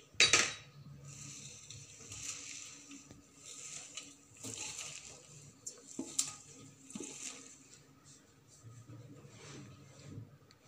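Besan flour and fresh coriander get mixed by hand in a metal bowl for kothimbir wadi, with soft scraping and occasional clinks of the bowl, close and quiet, under a voice talking.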